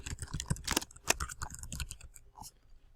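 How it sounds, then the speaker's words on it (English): Keystrokes on a computer keyboard in an office setting, a quick irregular run of clicks tapped out close by, fairly faint, with no talking. "I'll type in a pipe and then my name."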